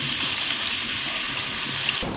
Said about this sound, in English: simply open our can of chickpeas and then rinse them well